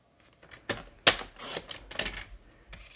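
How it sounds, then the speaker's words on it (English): Cardstock is cut to size on a paper trimmer, giving a few sharp close clacks and a short slicing swish, alone and fairly loud. "And then I just come in and cut it to 5 1/4."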